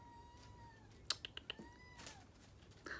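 A kitten gives a few thin, rising meows at low volume, with scattered light clicks and taps nearby.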